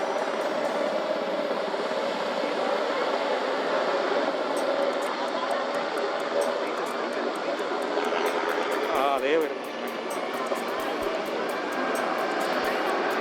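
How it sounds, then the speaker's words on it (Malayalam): Navy Dornier aircraft fly over during a Navy Day final rehearsal, producing a steady, broad engine drone that holds throughout and dips only briefly near the end. "നേവിയുടെ ഡ്രോണിയർ വിമാനങ്ങൾ"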